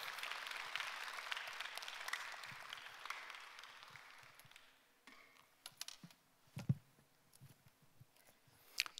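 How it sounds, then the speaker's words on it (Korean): Church congregation applauding at a Friday evening worship service, clapping heard faint and brief before dying away into scattered knocks and shuffling sounds. "우리 한번 나오실 때 우리 한번 뜨겁게 박수로 환영하시고"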